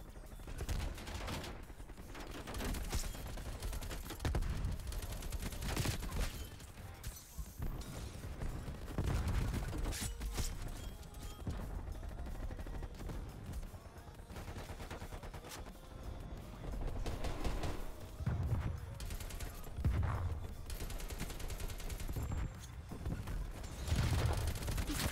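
AK-47 gunfire in Call of Duty: Black Ops Cold War, with scattered bursts and single shots amid a busy, moderately loud game soundscape, continuing throughout without a clear pause.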